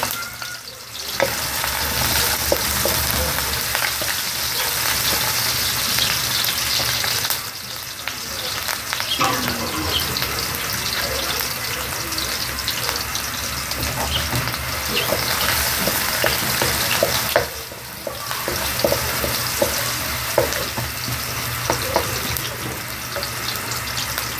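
Chopped ginger frying in oil in a pan gives a steady loud sizzle that runs throughout, with occasional scraping and stirring strokes close by.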